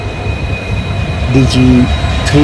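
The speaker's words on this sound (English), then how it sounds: "Overtaking a coal freight train towards Dond, hauled by a twin WDG3" Coal freight train hauled by twin WDG3 diesel locomotives, heard from an overtaking express train: steady rumbling rail and engine noise with a couple of brief tonal squeals or horn-like bursts, with faint voices underneath.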